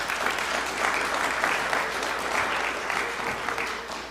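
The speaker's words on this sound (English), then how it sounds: "Let's give them a round of applause." Dense, steady applause fills the room at a city press conference as the audience claps for the housing programs team, loud and continuous throughout.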